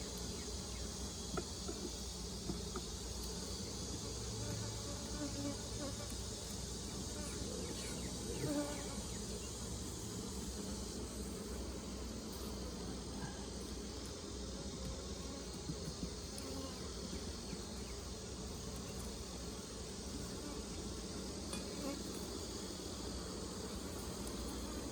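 Honeybees buzzing around opened beehives while a small split is being made, a steady, continuous hum of many bees at low level with no talking.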